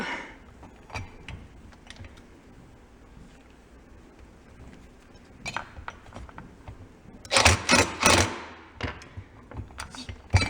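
Scraping packed gunk out of the Allen bolt heads on a Husqvarna 353 chainsaw with a pick, heard as faint close ticks and scratches, then a louder burst of rapid gritty scraping partway through.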